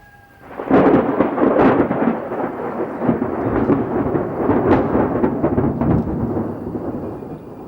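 A thunderstorm rumbles close by, with rolling thunder over a steady wash of heavy rain, loud and continuous after a quiet start.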